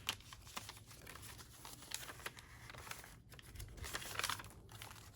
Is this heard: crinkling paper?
yes